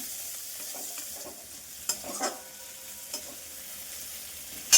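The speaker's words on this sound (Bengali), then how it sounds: "একটু পেঁয়াজ তেল বানিয়ে নিচ্ছি" Onion frying in oil in a pan for a simple onion-oil seasoning, a soft steady sizzle with a few light scrapes and taps, close and fairly quiet, no voices.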